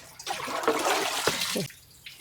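Water pours over sesame seeds being rinsed before pressing into gingelly oil; a steady splashing gush runs for about a second and a half, close and fairly loud, then cuts off with a few faint drips.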